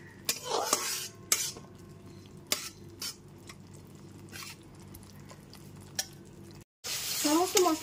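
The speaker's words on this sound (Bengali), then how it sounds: "আদা কাঁচা লঙ্কার পেস্টটাও গুঁড়ো মশলার সাথে খুব ভালোভাবে কষিয়ে নিতে হবে।" Ginger and green chili paste is stirred into ground spices in a pan, with a spoon scraping and clattering in repeated strokes over a low sizzle, nearby and fairly loud.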